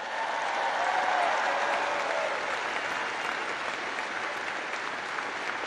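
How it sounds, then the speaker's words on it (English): A commencement crowd in Alabama applauds in a broad, steady roar of clapping that swells early and then holds evenly throughout. "let's give a big round of applause to your incredible parents,"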